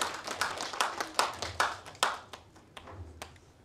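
A small group claps at a folk-song contest award ceremony, a brief scattered patter of hand claps that thins out after a couple of seconds, heard fairly close with no talk.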